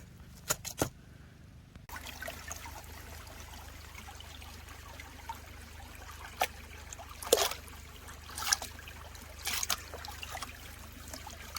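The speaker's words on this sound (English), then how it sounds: "But I'll go ahead and pan this out," Water sloshes and trickles from a gold pan as a small damp ore sample is worked, with soft intermittent splashes and swirls at close range over a quiet outdoor background.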